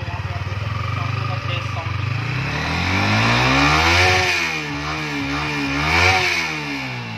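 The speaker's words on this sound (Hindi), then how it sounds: "तो यहाँ पे बाइक ऑन हो चुकी है और काफ़ी ज़्यादा बेस्ट साउंड आता है" A Yamaha R15 V3 motorcycle engine idles near 2000 RPM, then revs up and down in rising and falling sweeps, loud and close, with someone talking over it.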